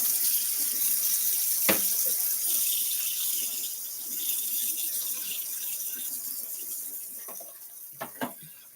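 A kitchen faucet runs steadily as used dishes are rinsed after cooking, a close, continuous hiss of water with a few brief clinks and knocks of dishware.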